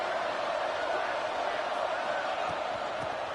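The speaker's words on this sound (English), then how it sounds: "listen to this crowd noise. This stadium is vibrating." A college football stadium crowd roars during Georgia Tech vs BYU, a dense, steady wall of cheering that fills the whole stretch at constant loudness, with a commentator's voice faintly mixed in.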